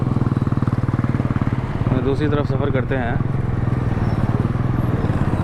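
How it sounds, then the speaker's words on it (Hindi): A motorcycle engine drones steadily and close while riding a street near Bangali Chowk in Karachi, its low pulsing hum running unbroken beneath someone speaking over it. "हम वापस घुमाते हैं बाइक"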